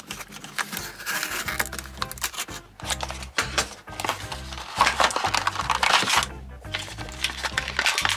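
A Bburago 1/43 scale Ferrari Roma toy car is unboxed with close crinkling, tapping and rustling of the packaging, heard over steady background music.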